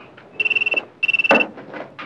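Telephone ringing in a dramatic film scene, two bursts of a trilling electronic ring separated by a brief pause, fairly close, with a short thump and faint background murmur.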